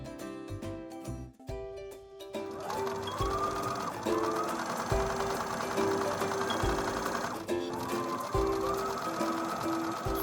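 A sewing machine stitches strips for a beginner zipper pouch bag, starting in short whirring bursts before settling into a long, steady run, pausing briefly and then resuming, close and clear.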